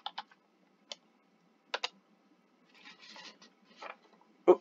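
A few quiet key presses on a computer keyboard sound close and crisp, scattered irregularly, with a brief soft flurry near the end.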